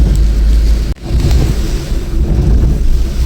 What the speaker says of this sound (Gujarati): વરસાદ બતાવી દઉં તમને